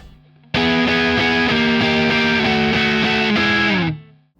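Distorted electric guitar strums a blues turnaround in a swung pattern with accents repeating in threes, loud and steady with no talk, its chord ringing out at the end.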